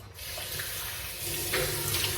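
Warm tap water runs steadily into a sink while face scrub is rinsed off, a continuous close splashing stream with small splatter bursts and no voices.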